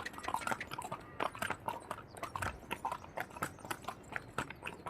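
Horse hooves clip-clop at an irregular walking pace on a trail near Pahalgam, Kashmir, a series of sharp, fairly close knocks with faint ambient sound between them and no talk.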